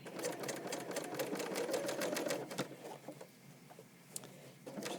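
An overlocker sewing machine stitching along the frayed hem of cropped jeans, running in a rapid continuous rattle of stitches for about two and a half seconds, then stopping and restarting with shorter bursts and light clicks.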